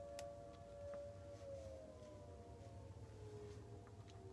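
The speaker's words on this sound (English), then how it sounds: "Tornado sirens are being tested." Outdoor civil defense tornado siren sounding during a routine test, a faint, distant wailing tone that slowly falls in pitch, heard indoors over a low background hum with no talking.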